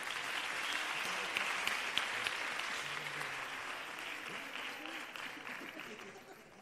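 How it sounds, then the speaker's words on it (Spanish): An audience at a Christmas choir and carol contest applauds steadily for several seconds, the dense clapping filling the room before gradually thinning out, with a faint voice under it. "Podemos aplaudir otra vez."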